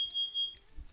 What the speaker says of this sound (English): I think that was the fire alarm.